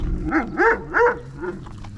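An old hunting dog gives a run of four deep, hoarse barks or growling woofs at a roughly even pace, close and moderately loud, the last one weaker, with faint background noise.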